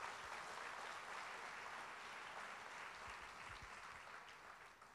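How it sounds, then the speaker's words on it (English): Conference audience in a large hall at an ISAO charismatic renewal gathering gives a round of applause, a dense, even wash of many hands clapping steadily, fading slightly toward the end. "Let's give the charismatic renewal a big round of applause."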